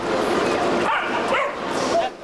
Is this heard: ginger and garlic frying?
no